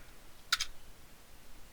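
A quick pair of sharp computer keyboard keystrokes, faint and close, then quiet room tone, with no talking.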